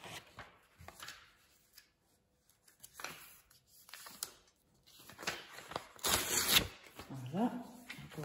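Paper torn into small pieces by hand: several short, dry ripping bursts spaced apart at close range, one longer louder tear near the end, with faint handling sounds between.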